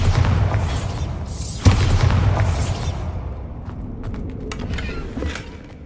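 Spell explosions in Hogwarts Legacy, a deep rumbling boom followed by a second blast at about 1.7 seconds that fades into crackling debris, loud and close.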